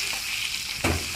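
Paneer pieces sizzle steadily in a hot pan, a continuous close frying hiss with a brief louder scrape of stirring near the end.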